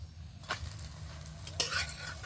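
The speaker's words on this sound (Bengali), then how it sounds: "কয়েক ফোঁটা তেল দিয়ে এই রুটিটা ভেজে নেওয়া হবে।" Egg paratha flatbread frying in a few drops of oil in a pan, a faint steady sizzle with two brief scraping strokes of a spatula.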